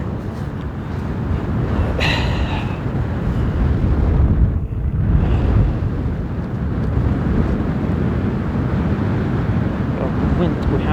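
A chilly wind blows outdoors near a volcano in Iceland, making a loud, steady rumble as it buffets the microphone, with gusts swelling and easing throughout.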